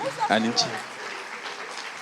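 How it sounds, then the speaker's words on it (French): Audience applause at an African storytelling festival, a steady wash of clapping from a crowd, with a voice speaking over the start before the clapping carries on alone. "Mesdames et messieurs, on applaudit pour Monsieur Emma."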